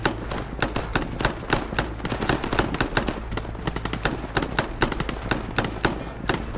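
Rapid gunfire in the military shooter game Operation Harsh Doorstop: sharp bursts of automatic fire crackle in quick irregular volleys, some near and some more distant, continuing without pause.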